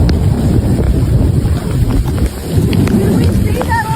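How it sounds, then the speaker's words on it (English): Heavy rain pouring down in mountainous wilderness, loud dense rushing water and wind buffeting the microphone, with scattered crackles throughout. "The video shows rain suddenly pouring down as water rushes from both mountain slopes into the valley."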